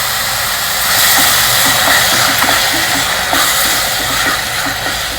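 Finely chopped red tomatoes hitting hot oil with lightly browned onions and green chilies give a steady, loud, broadband sizzle and hiss that holds throughout with no break and no talking.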